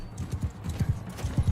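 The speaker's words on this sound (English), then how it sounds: "Come here, horse." Horse in Mount & Blade II Bannerlord, close rhythmic clip-clop of hooves in quick paired beats, loud and steady throughout, heard without speech.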